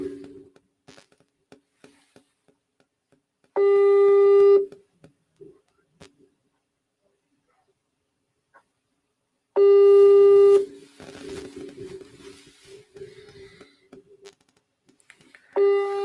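An outgoing WhatsApp call rings unanswered, repeated electronic ringing tones in long bursts separated by quiet gaps, with someone talking faintly between them.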